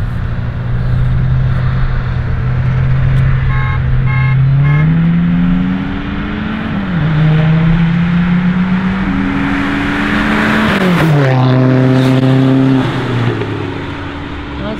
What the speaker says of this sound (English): Mark's about to race a Dodge Charger.